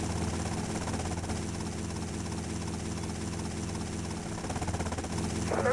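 Helicopter in GTA Vice City drones continuously, a loud steady rotor and engine hum with throbbing low pulses throughout.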